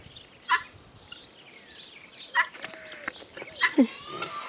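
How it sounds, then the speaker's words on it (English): Guinea fowl calling in a garden: a few loud, harsh bursts of clucking and squawking, spaced a couple of seconds apart, over a steady outdoor background. "It's so nice to see the guineas in the garden."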